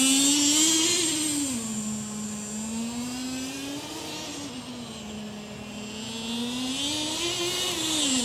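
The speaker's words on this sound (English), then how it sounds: "Now we're going to give the truck half throttle for no more than 2 seconds." A Traxxas T-Maxx nitro RC truck engine revs at half throttle during break-in, a loud, close, buzzing whine that rises and falls in pitch in slow waves as the throttle is eased on and off.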